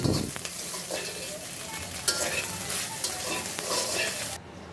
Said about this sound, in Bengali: সয়াবিনগুলো একটু লাল লাল করে ভেজে নিলাম